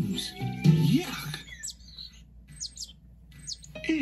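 Birds chirp in short, high, scattered tweets that come in quick pairs and bursts after a brief low voice-like sound at the start, fairly faint against a quiet background.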